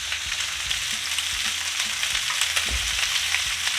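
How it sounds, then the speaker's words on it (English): Butter and crushed garlic sizzling in a hot pan with lamb loin chops, a loud, dense, crackling fry with bursts of popping and occasional pan movement, close up and without speech. "we're going to add the butter and the garlic into the pan."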